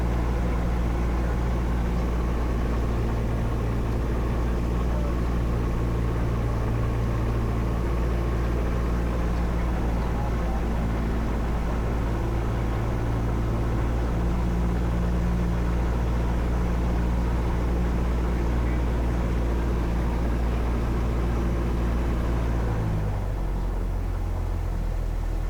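A small airplane's engine runs up at high revs before a discovery flight, a loud, constant droning roar heard from inside the cabin that drops suddenly in pitch near the end.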